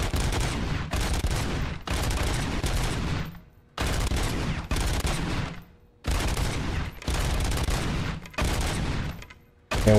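Full-auto gunfire in the Robocop Rogue City video game roars in long, loud sustained bursts, broken by short pauses between each stretch of rapid fire.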